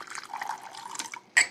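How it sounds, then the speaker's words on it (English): Clean drinking water pours into a small cup while mead is being prepared, a soft trickling stream that fades out before a sharper splash or clink at the end, close and quiet. "Now I just fill like a little cup of water."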